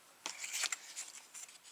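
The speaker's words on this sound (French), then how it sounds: "Là, on va marquer un petit coup de ciseaux." Scissors snip through paper or card during a bookbinding craft job making a folio: a few short, crisp cutting bursts close by, alone and fairly quiet.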